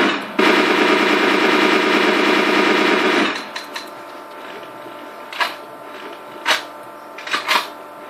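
A JGC Bullpup gun fires in the video game Garry's Mod: one loud continuous automatic burst of about three seconds, followed by a few scattered clicks and short mechanical handling sounds.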